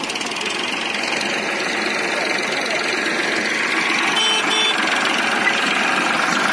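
An Indofarm 3055DI tractor engine labors up a steep climb, a loud continuous mid-pitched drone with a knocking rumble, steady throughout.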